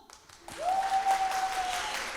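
Audience applause for a Vietnamese zither (đàn tranh) ensemble at a poetry and music show: clapping swells in after a brief quiet start, with a steady ringing tone held beneath it.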